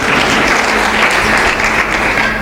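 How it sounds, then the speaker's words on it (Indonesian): A church congregation applauds steadily at close range, a dense continuous wash of clapping hands without voices over it. "boleh beri tepuk tangan Bapak Ibu"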